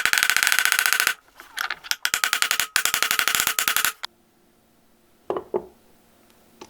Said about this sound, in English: it's going to just have to be drifted into place